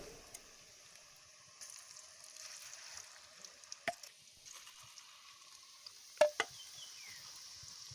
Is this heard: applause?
no